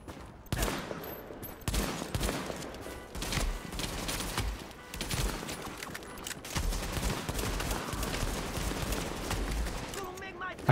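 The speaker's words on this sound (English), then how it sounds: "I'm gonna have to shoot him." Near-constant heavy gunfire in the video game The Division, set in Times Square, with dense rattling volleys and sharp shots piling over one another for the whole stretch, while a voice talks over the fighting.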